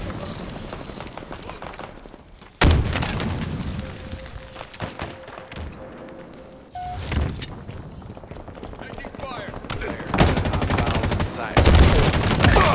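Halo Infinite firefight: loud bursts of automatic weapon fire break in abruptly after a quieter stretch, then return in strong volleys toward the end, with voices speaking between the shots.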